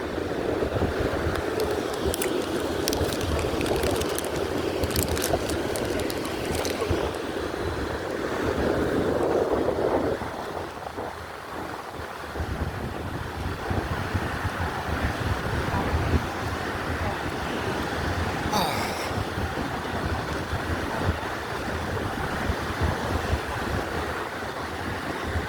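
Surf and gusting wind along a beach during an early morning walk, a steady broadband wash with rumbling wind buffeting the microphone throughout, no voices.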